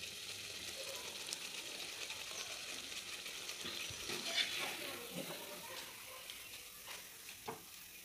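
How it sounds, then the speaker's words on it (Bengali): Quiet oil frying of pea-stuffed kachori with a soft, steady sizzle, punctuated by a few faint clicks and scrapes of a utensil. "একটু লাল করে ভাজবেন, খুব সাদা সাদা করে ভাজলে হবে না"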